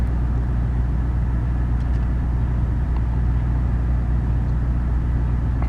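Turbocharged Mazda Miata engine running after being brought back to life, a steady low idle drone with a constant rumble and no variation, heard alone without voices.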